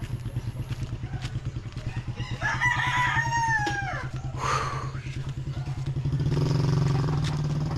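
Several roosters crow across a village morning, overlapping calls rising over a steady rhythmic engine-like drone, with clucking fowl and clattering nearby.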